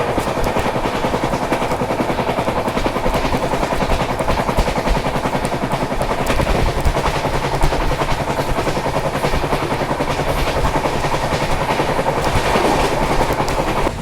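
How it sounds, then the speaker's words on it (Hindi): Train wheels rattle and clack steadily over railway track on a scenic route near the Bhutan border, a loud, continuous rhythmic clatter heard close up from on board, with no talking. "और क्या ट्रैक साउंड जो है वो अभी आ रहा है"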